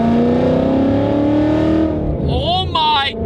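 Supercharged 800 hp Ford Mustang GT Track Attack engine droning loud and close with rising revs, then voices break in over the engine near the end.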